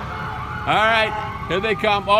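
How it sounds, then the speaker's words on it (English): Emergency vehicle sirens wail at a parade lineup in Owasco, rising and falling in loud sweeping tones as the vehicles approach, with someone speaking briefly over them. "The sirens are blaring."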